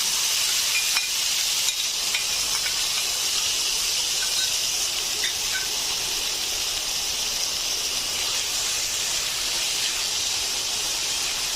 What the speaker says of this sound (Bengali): তেলটা আমার গরম হয়ে গেছে এখন আমি মাংসটা দিয়ে দেবো